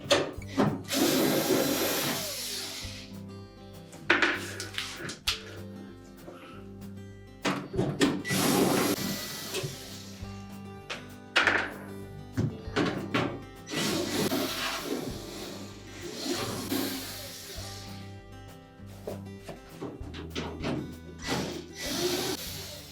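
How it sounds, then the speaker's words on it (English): A power screwdriver backs screws out of the evaporator cover in a Whirlpool refrigerator's freezer compartment, several short whirring bursts separated by pauses and light handling clatter, close and fairly faint. "we're going to remove the screws that secure that evaporator cover in place"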